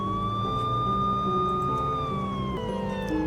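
Police car sirens in the Lucid9 video game, a steady wailing siren tone sustained over a low engine-like drone, loud and continuous with a slight pitch dip near the end, no voices.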